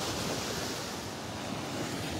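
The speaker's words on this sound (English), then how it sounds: "Got a few more waves out here this morning." Ocean surf and a light southwest breeze on the beach at Delnor-Wiggins Pass in North Naples, Florida, a steady broadband wash of waves with wind rumble, continuous and fairly loud, no voices.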